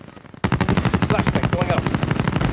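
Automatic gunfire in the video game Call of Duty: Warzone, a loud rapid burst of shots in a fast steady rhythm that starts abruptly and keeps going to the end, close and dominant.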